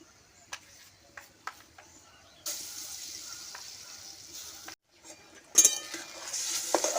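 Ground chana dal paste with asafoetida frying in hot oil for a dalpuri filling: quiet scrapes and taps at first, then a steady loud sizzle from about midway, broken by a brief pause and a sharper burst near the end.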